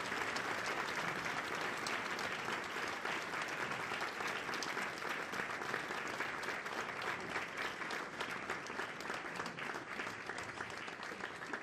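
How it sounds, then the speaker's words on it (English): A conference audience applauds after a lecture, a dense, steady wash of many hands clapping at moderate distance, continuous throughout without voices. "I think you could sense from the applause that this was very well received."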